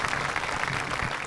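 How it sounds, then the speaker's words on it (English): A hall full of people claps steadily for the PTO at a senior awards ceremony, forming a dense, even wash of applause with no pauses. "If we can give her a round of applause and all the PTO"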